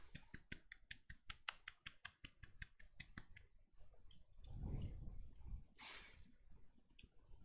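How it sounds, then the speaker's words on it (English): Quiet golf clap, a rapid run of light, dry hand claps in the first half that thins out and fades, followed by a soft low rumble and scattered faint taps. "I'll golf clap a little louder"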